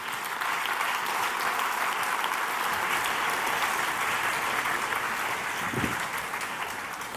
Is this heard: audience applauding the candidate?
yes